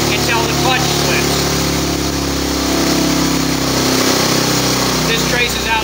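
Motorcycle engine held at wide open throttle on a compact chassis dynamometer, a loud continuous roar with steady tonal harmonics and a slight pitch shift midway, unbroken from start to finish.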